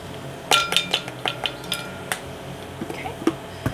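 Salt being spooned into glass canning jars for pressure-canned chicken, a quick series of bright metallic clinks and taps against the glass, close and crisp, with a few softer scrapes between them.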